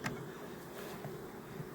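Honey bees crowd a hive frame beside a heating panel in an electrically warmed hive, making a low, continuous buzzing hum, faint and close, with small handling bumps.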